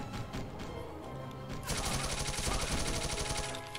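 Rapid, sustained automatic gunfire in the shooter WolfenDoom: Blade of Agony, loud and dense. It starts amid game sounds and then becomes a continuous rattling stream of shots that lasts several seconds.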